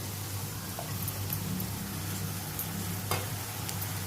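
Tomato and red chili paste frying in a pan for a cashew masala, a soft steady sizzling hiss with a few light scrapes of stirring, with no one talking.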